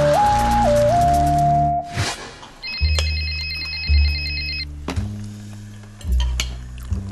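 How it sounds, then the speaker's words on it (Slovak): A mobile phone in a cartoon rings with a repeating electronic ringtone in several short, loud bursts, heard alone without talk. "Zvoní mobil."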